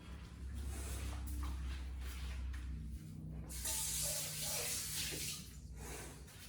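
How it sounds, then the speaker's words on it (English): Tap water runs into and sprays around a bowl being rinsed out in a kitchen sink, a continuous hissing splash that shifts and brightens partway through as the bowl is moved under the stream. "Let me wash out this bowl real quick."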